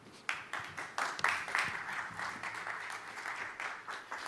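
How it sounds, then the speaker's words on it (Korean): An audience at a Korean church seminar breaks into steady applause, many hands clapping together in a sustained, even wash of sound that welcomes a speaker to the stage. "큰 박수로 환영하도록 하겠습니다."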